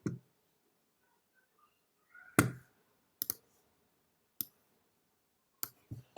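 Sparse, sharp mouse clicks sound one at a time or in quick pairs, close and isolated against near silence, while animating in the Roblox video game.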